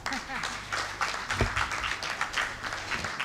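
Continuous audience clapping at an industry conference continues close and fairly loud, thick rapid hand claps throughout with a brief low thump midway and faint voices underneath.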